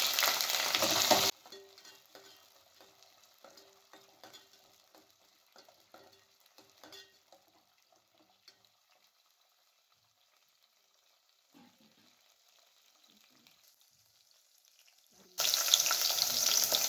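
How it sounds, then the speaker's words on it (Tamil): Shallots and peeled garlic fry in oil. Loud bursts of sizzling open and close the stretch, and a much fainter crackle with occasional stirring fills the quiet middle. "சேர்த்து நல்லா எண்ணெயில் வதக்கிக்கிறேன்னா"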